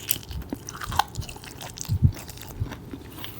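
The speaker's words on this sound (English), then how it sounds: "That crunch almost short-circuited my microphone." Crispy skin on a chicken thigh grilled on a Weber kettle is bitten and chewed up close, with a few sharp crunches and moist squishing chews at an uneven rhythm and no talking.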